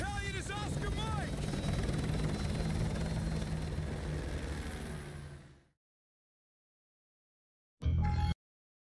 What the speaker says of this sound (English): Use my helicopter.